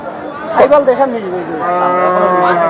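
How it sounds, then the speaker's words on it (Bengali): A local deshi-breed cow moos at a busy rural cattle market, a few deep, drawn-out calls close by, with people chattering and talking around it. "দেখি গরুটি দেশাল টাইপের একটি গরু"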